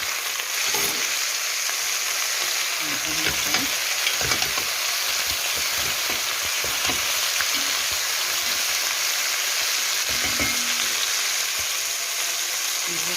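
Meat frying in a pot as the base for an okra stew, a steady loud sizzle with scattered stirring clatters throughout, no speech over it.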